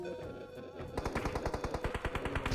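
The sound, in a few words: gunfire in the video game PUBG Mobile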